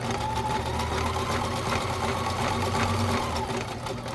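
A Kenmore sewing machine runs a zigzag stitch, its motor whirring in a steady, continuous hum with rapid needle clatter, close and loud throughout with no talking.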